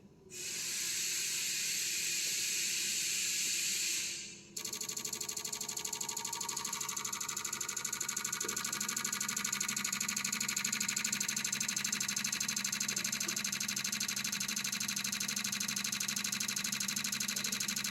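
A vehicle engine idling during a fuel injector test, a steady loud hiss and hum running continuously after a brief break, with no talk over it.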